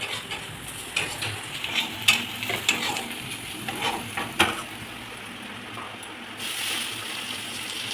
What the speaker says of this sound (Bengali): এবার সবজিগুলো একটুখানি ভাজা হচ্ছে